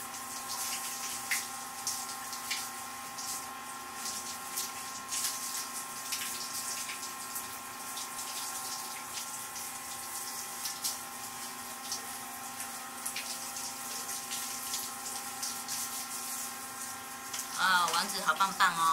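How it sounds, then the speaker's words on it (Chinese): Running water from a tap during a child's bath: a steady, soft stream of splashing water runs throughout, with faint voices and small splashes near the end. "我们的王子在洗澡了，洗香香了。"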